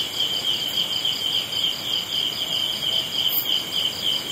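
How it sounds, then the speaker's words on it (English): Evening insects near a rice field in Bali chirp in a steady, dense high-pitched chorus, continuous and even throughout, with no voices present. "In the background you can hear various critters of the evening."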